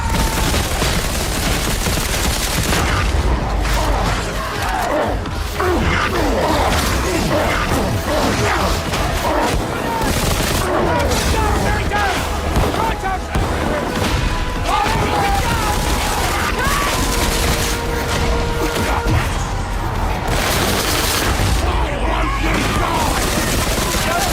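Sustained gunfire fills a Darktide shooting contest with the Hive Scum crew, dense continuous volleys and booms roaring loud and unbroken throughout, mixed with clattering mechanisms and occasional shouted voices.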